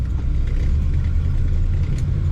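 A 1955 Oldsmobile Super 88 Holiday two-door with an automatic transmission runs smoothly, giving a close, steady, deep engine rumble without pauses or voices.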